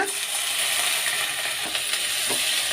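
Moringa flowers stirred through frying onions in a pan give a steady close sizzle with scraping utensil clicks and rattles, continuous with no talk.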